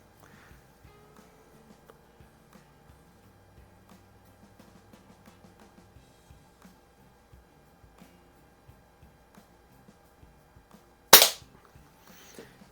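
A single sharp, loud air pistol shot from a Beileshi or Umarex Browning Buckmark pistol cracks near the end, after a long stretch of faint clicks and quiet handling noise.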